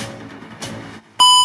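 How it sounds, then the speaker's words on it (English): A phone ringtone cuts in suddenly, a loud, bright electronic tone that starts abruptly after a short lull at the end of some noisy indoor sound. "Sorry, that's my ringtone."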